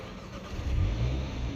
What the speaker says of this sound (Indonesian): untuk nyalainnya cukup kita injek rem aja dan tekan start stop engine button yang di tengah